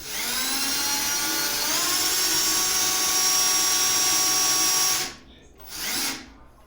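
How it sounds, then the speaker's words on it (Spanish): An electric drill in non-hammer mode whines steadily at high speed drilling ceramic tile for about five seconds, pitch shifting slightly as it bites, then stops and briefly spins up again. "Vamos a empezar a taladrar, pero en la función de taladro, no en rotomartillo"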